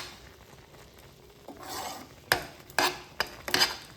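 Homemade Maggi masala spice mix is stirred in a vessel, giving soft scraping swishes followed by several sharp clinking strokes, close and alone with no talk.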